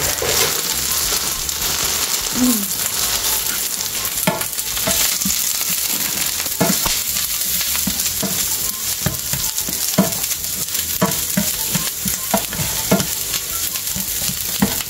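Garlic and onion sauté in a pan for pata tim, sizzling loudly and steadily up close, with repeated scraping stirs and crackles throughout and no talk.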